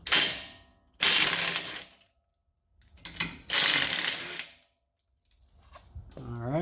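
A power tool spins nuts off a Ford Bronco control arm during a skid plate install, giving loud close whirring bursts about a second long separated by quiet pauses, and a voice comes in at the end.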